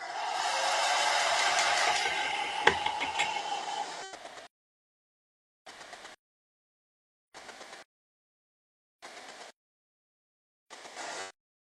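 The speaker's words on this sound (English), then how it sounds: "I'm gonna use a hairdryer for a second, so just bear with the noise" A hair dryer blows steadily at close range for about four seconds, then cuts off; five short bursts of the same airflow follow, separated by silence.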